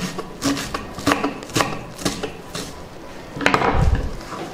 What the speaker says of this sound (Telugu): తోటకూరని చిన్న చిన్న ముక్కలుగా కట్ చేసుకుందాం